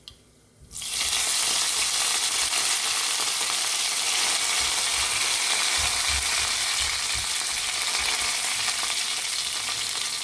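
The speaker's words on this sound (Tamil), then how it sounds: "இப்போ கருவேப்பிலை போட்டுக்கலாம்." Curry leaves and fenugreek seeds frying in hot oil for a Tamil kovakka peanut chutney kuzhambu: a loud, steady, crackling sizzle that bursts in suddenly after a brief quiet start and holds through to the end, with no voices.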